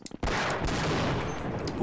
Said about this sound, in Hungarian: Robban, hogyha meglövöm?